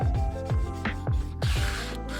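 Repeated rubbing strokes of sandpaper on a balisong knife, steady back-and-forth rasping with a regular rhythm, close up and fairly loud.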